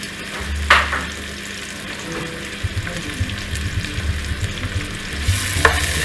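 Onions and garlic frying in a pan for a Greek pastitsio, with a steady close sizzle and a few sharp scrapes of stirring throughout, no talking.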